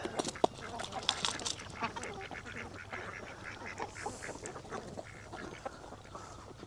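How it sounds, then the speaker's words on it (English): Ducks quack repeatedly at moderate distance while foraging for snails on a small homestead farm, the calls scattered and overlapping over a steady background murmur, with no talking. "The ducks will come eat after they gather up all the snails they can find."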